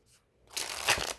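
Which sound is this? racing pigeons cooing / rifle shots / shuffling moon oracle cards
shuffling moon oracle cards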